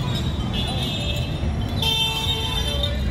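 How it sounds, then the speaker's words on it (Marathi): Busy street traffic in Hadapsar market during the Ganpati festival crowd, with several car horns tooting in overlapping bursts over a steady roar of engines and road noise close by. "ट्रॅफिक पण आहे जास्त."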